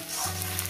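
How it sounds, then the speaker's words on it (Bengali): Mustard greens bharta with rohu fish frying in a pan, giving a steady, close sizzle with a low hum beneath and no voices. "আরও 2 মিনিট কি 3 মিনিট এটাকে আমি ভেজে নেব"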